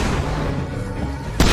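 Gunfire in State of Decay 2 on Xbox Series S: a dense, rumbling barrage of booms holds throughout, with one sharper, louder shot near the end.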